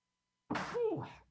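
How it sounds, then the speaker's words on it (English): A single sudden sneeze bursts out after silence during a radio show, sharp and close, trailing into a short breathy tail. "as I sneeze during a radio show"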